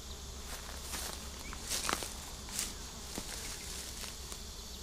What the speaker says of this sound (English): Let's see if I can get this thing down without getting too many bees riled up.